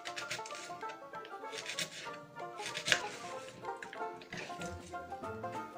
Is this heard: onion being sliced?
yes